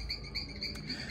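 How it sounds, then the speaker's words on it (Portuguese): A cricket chirps among potted orchids, repeated high shrill pulses in a quick regular rhythm, faint against low background hum, no talking. "ela ouviu esse barulho, ó. Grilo."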